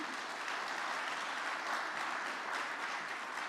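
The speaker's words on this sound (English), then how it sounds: "Please join me in giving Prime Minister a very warm applause again" Steady, dense applause from a conference audience at a tourism ministerial forum, honouring a departing Prime Minister; continuous and fairly soft, with no one speaking over it.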